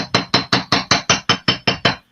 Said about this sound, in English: This is a riveting hammer with a cross peen on the other end.